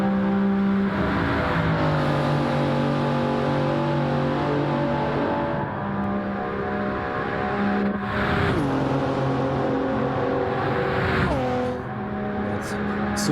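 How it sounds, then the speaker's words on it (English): A Toyota Supra race car in a racing video game accelerates hard along a straight, its engine whine climbing steadily through several upshifts, loud and close with a steady drone underneath. "Supra pulling away a little bit on the straight, as usual."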